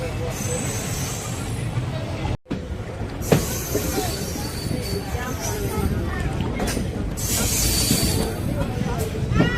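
A delayed passenger train runs between Madurai and Coimbatore, a constant rumbling roar with rattling and clanks, a brief dropout, and a louder hissing swell near the end, while people talk inside the carriage.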